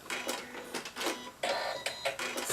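A sewing machine stitches a stocking seam in repeated short mechanical bursts with brief pauses, its clattering whir close and steady and no voices over it.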